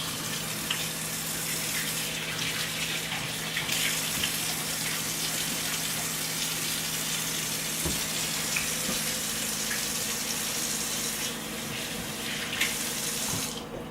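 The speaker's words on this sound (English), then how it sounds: "the first thing we're going to do is wash our hands." Hands washed under a running kitchen tap, a loud steady rush of water into the sink with small splashes and no voice.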